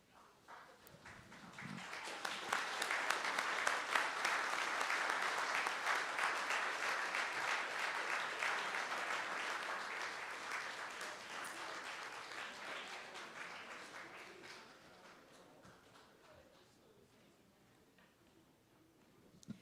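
A crowd at a Black Hall of Fame awards ceremony bursts into sustained applause and cheering for honorees, the clapping swelling within a couple of seconds, holding for about ten seconds, then gradually thinning out.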